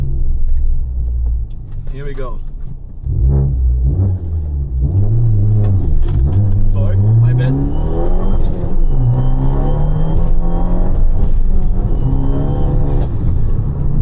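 A Fiat 500 Abarth engine with a downpipe exhaust revs up and down repeatedly with a raspy, rumbling exhaust, close by and loud, while someone talks briefly over it.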